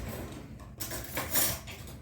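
A spoon is picked up in a home kitchen while pumpkin snickerdoodle dough is mixed, giving soft metallic clinks of cutlery against dishes, brief and close, over a low room hum.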